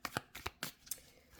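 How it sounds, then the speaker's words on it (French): A few quick papery flicks and slides of cards as a bonus card is drawn from a deck, soft and close in quiet surroundings. "on va prendre une petite carte bonus"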